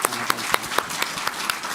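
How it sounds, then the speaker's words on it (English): A small audience applauds after a sustainable finance panel discussion, a brief patter of clapping with a few sharper individual claps standing out above the steady wash. "I think that deserves one more round of applause"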